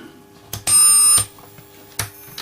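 A tone generator emitting a steady high-pitched electronic whine lasting about half a second, framed by brief clicks as it switches on and off, in a quiet room.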